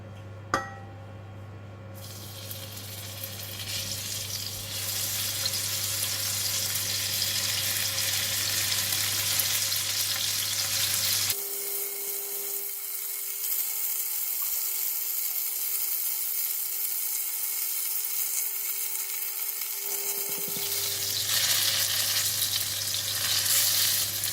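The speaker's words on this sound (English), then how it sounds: "I'm going to fry the salted fish first." Salted fish frying in hot oil in a pan, a strong, steady sizzle lasting throughout, with a constant background hum that drops out partway, no talking.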